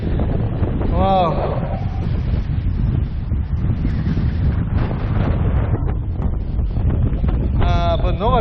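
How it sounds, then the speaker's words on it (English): Strong wind blasts across the microphone on a beach at Sandy Hook, New Jersey, a steady loud roar throughout with a voice exclaiming briefly near the start and again at the end. "finally we are here at the beach, but it's too windy today."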